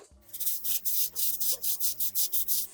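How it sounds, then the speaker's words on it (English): A screwdriver is pushed back and forth over dirt on a part, producing a rhythmic series of about a dozen scraping rubs, close and fairly quiet, with no talk. "I'm literally just letting the screwdriver sit on the dirt,"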